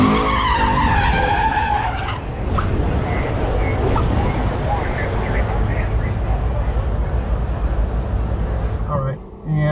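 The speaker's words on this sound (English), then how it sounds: "Camaro here, Camaro SS going sideways" A Chevrolet Camaro SS slides sideways on a concrete drag strip, and a loud tire skid squeals at the start. Roaring engine and crowd noise follow at close range and continue over the rest.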